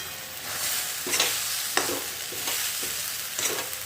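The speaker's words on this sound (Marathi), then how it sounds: "यामध्ये टाकत आहे मी आता ही सर्व सोयाबीन" Soybeans stir-fried in a black iron kadhai for restaurant-style soybean vada: close, soft continuous sizzling, broken by several sharper scraping stirs of a spatula.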